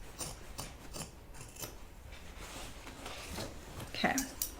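Fabric being trimmed with scissors for a sewn project bag, a series of soft, close snips and slicing cuts in an uneven rhythm, with a person talking over them.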